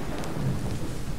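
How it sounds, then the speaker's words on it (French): Thunderstorm in Assassin's Creed III: steady, dense rain pours with a deep rolling rumble of thunder underneath, loud and continuous throughout, with no voices. "Faudrait faire quelque chose afin de m'abriter de cet orage."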